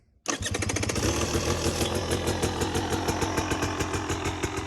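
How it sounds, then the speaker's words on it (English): A KTM 300 XC dirt bike engine catches on cold start and settles into a fast, high idle, loud and close, its rapid pulsing beat running without a break. "make sure you push that cold start, and you'll hear that it's just going to be idling higher"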